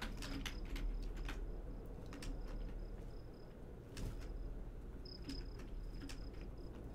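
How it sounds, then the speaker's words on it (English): Crickets chirp in short repeated bursts over a low steady hum, with scattered faint clicks in between, from the video game Veloren. "You can hear the crickets in the background."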